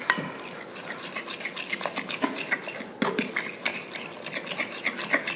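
A spoon scrapes and clacks rapidly against a bowl while creaming batter for a turtle brownie pie, close and continuous, with a brief pause midway.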